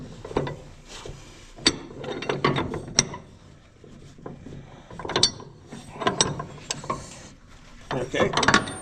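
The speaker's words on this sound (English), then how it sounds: "Now it needs torqued. Put our tool on here." A ratchet torquing tool works on the cutter head of a Weinig molder in a woodworking shop, giving bursts of clicking and metallic mechanism noise in several uneven groups with short pauses between.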